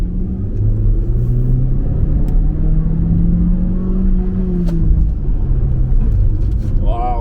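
A GAC Emkoo car floored in sport mode, a loud steady rumble and rising whir of hard acceleration carrying through the cabin with no let-up.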